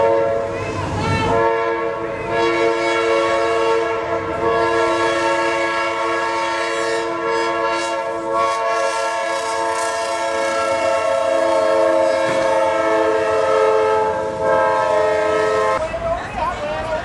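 A train passing close by with its horn blaring in a long, loud sustained blast that runs almost the whole time, over the rumble of the rail cars.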